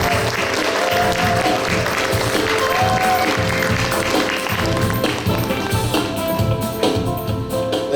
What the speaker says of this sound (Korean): 제14대 한기봉 회장님. 박수로 모시겠습니다.